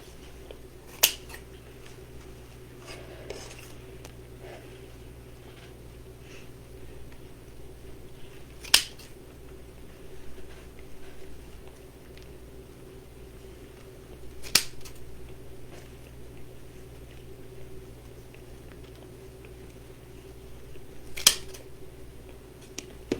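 Scissors snip deco mesh ruffles for a wreath, with a handful of sharp isolated cuts spaced several seconds apart over a quiet background hum.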